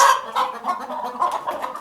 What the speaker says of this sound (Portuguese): Essas galinhas estão tranquilas